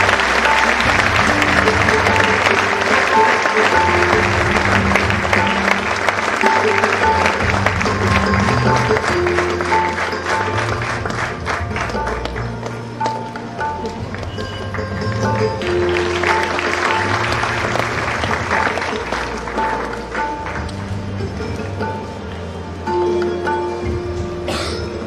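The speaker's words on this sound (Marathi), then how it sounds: "गुरूंच्या गुरुसाठी टाळ्या त्या वजनाच्या वाजल्या पाहिजे." An audience at an annual prize distribution applauds a teacher, with loud sustained clapping that runs throughout while a musical tone rings underneath.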